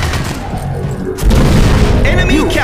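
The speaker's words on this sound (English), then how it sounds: "Grenade out." A grenade blast in the Shadowgun Wars shooter game lands as a sudden loud boom partway through, followed by sustained rumbling gunfire and battle noise, with game voice callouts mixed in.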